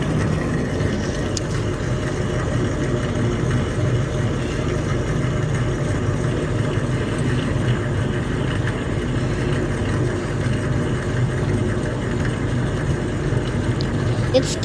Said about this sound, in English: His like utility exhaust fan is actually in a full speed.